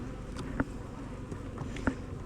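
Steady low buzzing of many honeybees close by in a hive's brood boxes, a continuous hum with a couple of brief louder knocks.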